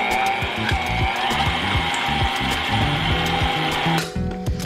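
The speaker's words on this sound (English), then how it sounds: "I have my stand mixer fitted with my whisk attachment." A stand mixer with a whisk attachment whips cake batter for a chocolate cream cheese pound cake, a loud, steady motor whir with a rhythmic beating pulse that eases off near the end.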